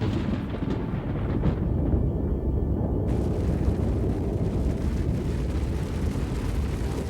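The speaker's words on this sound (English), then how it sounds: "Then Vesuvius erupted." The ancient eruption of Vesuvius comes through as a huge, deep, sustained rumbling roar, loud and unbroken throughout without any speech.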